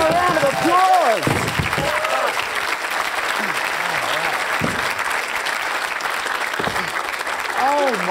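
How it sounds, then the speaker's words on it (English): An audience applauds after a bed of nails demonstration on a science show. Steady clapping continues throughout, with excited voices exclaiming over it. "Give him a round of applause."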